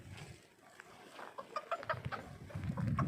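Chickens cluck softly and irregularly at close range outdoors in cold, windy weather, short clucks scattered over a low background rumble.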